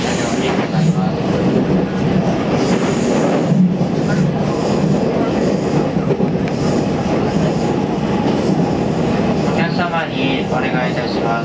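Interior of a JR Central 313-1100 series four-car train running on the Tokaido line, with a constant rolling rumble, wheel clatter and occasional squeal. A recorded onboard announcement speaks over the noise throughout.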